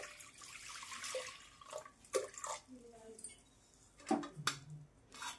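Heated water drips and splashes into toor dal for a pressure cooker, a few scattered close taps and trickles at low volume between bits of nearby talking.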